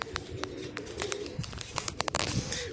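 Close pigeons coo in low, repeated bursts, mixed with sharp little clicks and taps from birds moving nearby.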